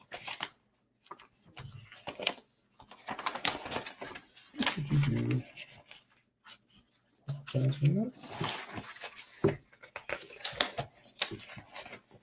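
Sheets from a pile of paper on a desk are shuffled and handled in soft rustling bursts during a live art class, mixed in with the host's talking.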